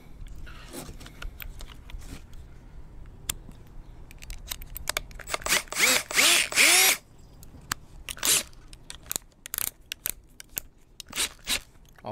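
A power drill bores a hole in a ceramic orchid pot, sounding in repeated short whirring bursts with scraping and grinding between them, close by and fairly loud, with no talk.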